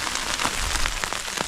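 Large, hard, hail-like snow pellets fall at a winter campsite in Hokkaido, pattering in a dense steady hiss with scattered sharper ticks on nearby surfaces, no voices.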